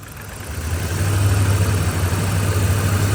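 A truck engine with a misfire is accelerated, its rough, low rumble swelling up from idle and holding loud and steady for about three seconds, nearby with no talking.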